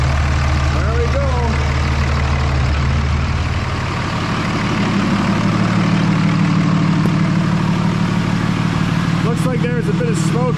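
A 5.9 Cummins diesel engine in a 2003-2007 truck runs close by with fresh fuel injectors, a steady low idle swelling into a rev and settling to a rougher, busier run, with brief voices over it.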